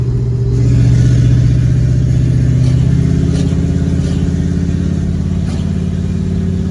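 A Jeep 4.7 engine running loud and close with its exhaust cutouts open, a deep throaty rumble that swells briefly as it revs, then settles into a steady heavy idle.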